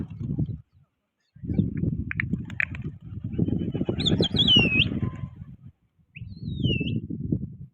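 Competition pigeons take off and fly in a pigeon-flying match, with soft bursts of flapping wings rising and falling across the clip and a few thin chirps heard above them.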